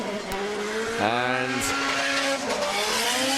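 A Nissan 180SX drift car with an SR20 engine at full throttle during pro drift qualifying at Mondello Park, its engine revving hard while tires squeal in a sustained, loud screech with a sharp pitch swing midway.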